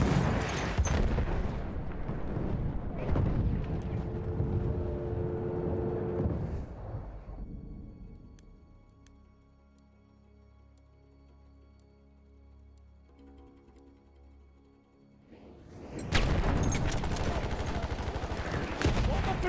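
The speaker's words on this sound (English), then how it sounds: "Patlatıyorum. Bomba gidiyor." Battlefield 1 combat with bursts of gunfire and explosions, loud and dense at the start, fading to a quieter stretch of tones in the middle, then erupting again into heavy blasts and shooting at the end.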